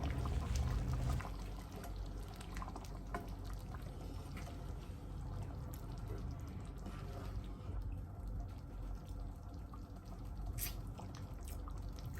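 Chopped tomatoes are poured from a container into a pot of vegan coconut curry lentil and chickpea stew, giving a wet, sloshing pour followed by soft drips and splatters, close and fairly quiet.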